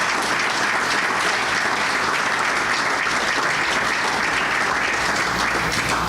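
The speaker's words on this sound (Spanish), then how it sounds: "Dale un aplauso fuerte al Rey de Reyes." A church congregation applauds loudly during a Spanish-language sermon, producing a dense, continuous roar of clapping that fills the whole stretch without pause.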